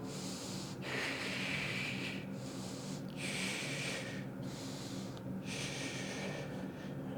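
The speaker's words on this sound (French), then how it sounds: "Expire assez fort." Forceful exhalations during a no-equipment full-body strength workout, three or four long, loud breathy rushes of air recurring about every two seconds over a steady low background hum.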